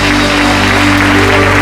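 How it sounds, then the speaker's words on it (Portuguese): A church congregation applauding during a service in São José dos Campos, dense loud clapping that fills the space, with a sustained hum of music or organ tones underneath. "Vamos aplaudir o Senhor Jesus."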